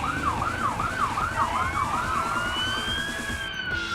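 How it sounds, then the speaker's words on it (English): A police car siren wails in a rapid rising-and-falling yelp, then shifts to a long steady tone, loud and close over a rumbling engine and road noise. "Taking a police car out for a spin"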